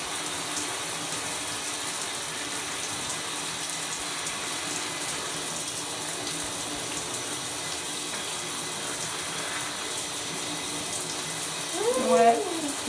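Tap water runs in a steady, soft hiss while hair is rinsed during a natural hair care routine, with a faint voice briefly speaking near the end.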